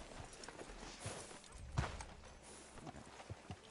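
Horse hooves clip-clopping at a walk in Red Dead Redemption 2, soft and fairly quiet with a steady plodding rhythm in an outdoor town setting.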